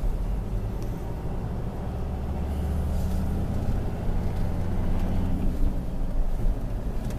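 A Ford Ranger 3.2 litre diesel accelerates on a test drive, its low engine drone and road rumble building steadily and smoothly from inside the cab.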